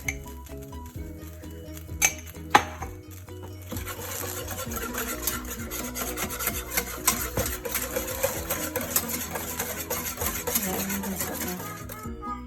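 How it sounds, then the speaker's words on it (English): A whisk works butter and flour together in a hot pan for tuna sauce, making a continuous close scraping and clinking against the metal after a couple of sharp taps at the start, with no voices. "Adding the butter and the flour, and now I'm going to give it a whisk."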